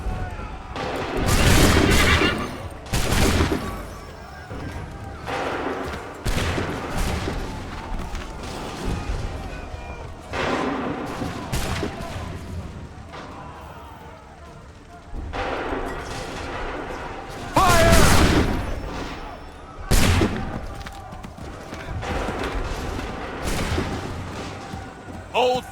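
Musket volleys in Assassin's Creed 3, loud broad cracking blasts repeating every few seconds across a battlefield, with shouted commands and game voices between the shots.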